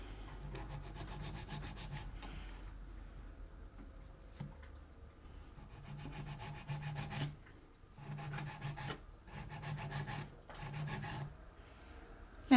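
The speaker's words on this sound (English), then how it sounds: "First I'm going to blend the sides and I'm going to use the 100 side of this file" Rhythmic rasping from the 100-grit side of a file blending edges comes in close, quiet bursts of rapid strokes separated by short pauses.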